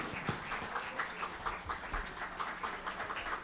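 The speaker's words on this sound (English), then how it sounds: "A great round of applause for whatever they treated us with." An audience at a student and teacher music performance applauds, a soft, steady patter of many hands clapping at a distance.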